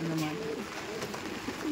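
Pigeon coos from an old, calm male giribaj pigeon in a loft during rainy weather, soft low repeated cooing near the listener.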